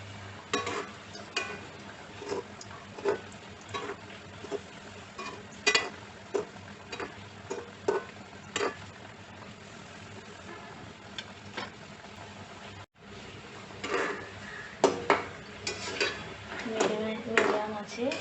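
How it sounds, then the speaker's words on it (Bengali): Murali dough snacks frying in hot oil over a medium flame, a steady bubbling sizzle with scattered clinks of a utensil against the pan, running through the whole stretch without talk. "চুলার জালটা মিডিয়ামে রেখে এগুলোকে ভাজতে হবে, না হলে উপরটা পুড়ে যাবে, ভেতরটা কাঁচা থেকে যাবে।"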